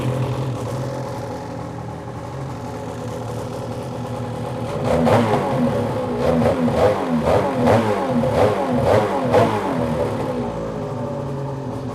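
A car with a stainless Force Turbos aftermarket exhaust idles with a low rumble, then revs hard several times in quick bursts, its exhaust barking loudly and close by.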